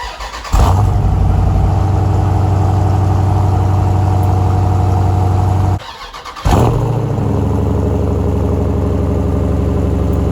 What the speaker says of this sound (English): we're gonna have a cold start of both the Jeep SRT and the Durango SRT, and we're gonna see which one is louder